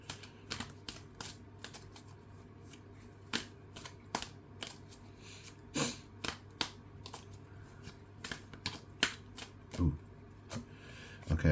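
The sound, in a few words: shuffling tarot cards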